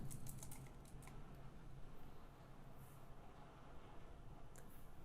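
Typing on a computer keyboard while searching for a WordPress plugin, a steady patter of soft, close key clicks running continuously over quiet room noise.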